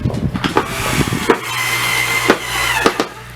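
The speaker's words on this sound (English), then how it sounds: "I'm screwing into soft pine" Screw being driven into soft pine wood while fitting a hydraulic hinge to a small table, loud close creaking and grinding with several sharp knocks spaced unevenly, a sustained tonal whine in between.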